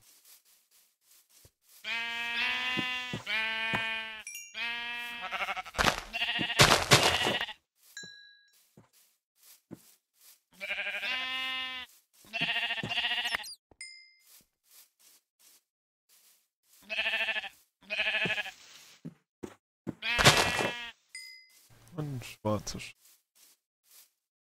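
Sheep in the Minecraft video game bleat repeatedly in separate bursts of wavering calls, loud and close, with short quiet gaps between them.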